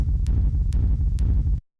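A techno kick drum distorted through Ableton's Amp pounds in a steady four-on-the-floor pattern, gritty, mono and loud, with a sharp click on each hit.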